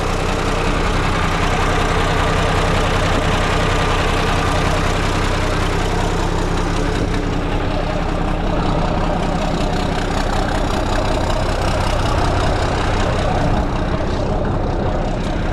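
A 1983 John Deere 4240S tractor, started after sitting through winter, runs loud and close with a steady, even diesel rumble that holds throughout without pause.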